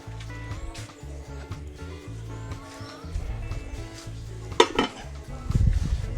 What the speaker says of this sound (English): Now I will uncover my pot to see how my bake going.